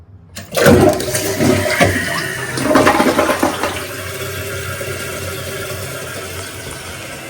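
A newly installed household toilet flushes loudly: a sudden rush of water swirls down and drains over a few seconds, then settles into the steady hiss of the tank refilling, close and alone.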